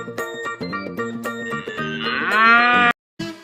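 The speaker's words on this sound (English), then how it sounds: "Cow" A cartoon cow moos repeatedly in a playful, sung rhythm over bright music, the lowing calls rising and stretching near the end before a short gap of silence.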